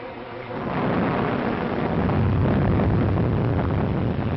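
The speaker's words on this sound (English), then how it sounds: "Looks like a storm." A thunderstorm at sea rolls in with a deep, broad rumble that builds after a short quiet start, then roars on loud and steady, with no voices.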